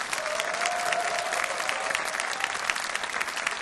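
Sustained applause from a church youth worship congregation welcomes a pastor to the stage, a dense, steady clapping that fills the room without letting up.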